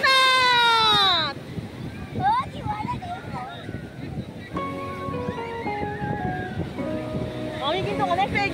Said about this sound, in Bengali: কি ঢেউ রে